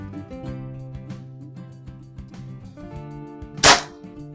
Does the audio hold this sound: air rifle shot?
yes